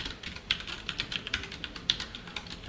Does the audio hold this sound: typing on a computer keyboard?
yes